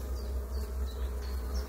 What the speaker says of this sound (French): On voit une abeille qui fait un 8 là, hop, et qui vibre.